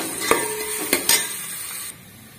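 Onions frying in oil in a pan, a bright sizzle broken by a few loud metal spatula knocks, then the hiss drops off abruptly near the end.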